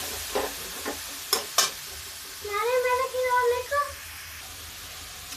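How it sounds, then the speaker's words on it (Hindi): Grated bottle gourd for a halwa sizzles gently in a pan with a few sharp stirring knocks; partway through, a high voice cries out briefly over the quiet frying. "ये लौकी का भून रहे हैं।"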